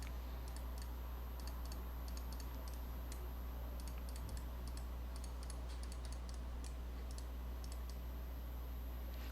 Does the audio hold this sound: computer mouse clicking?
yes